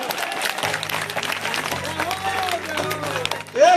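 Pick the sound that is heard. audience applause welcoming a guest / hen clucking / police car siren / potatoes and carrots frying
audience applause welcoming a guest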